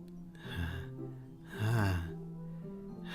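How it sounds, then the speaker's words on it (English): A sharp breathy gasp from a character in the Doki Doki Literature Club video game, a sucked-in inhale through the teeth that repeats twice, fairly close and clear over a soft musical background. "It sounds like breathing. A sharp inhale, like someone is sucking the air through their teeth."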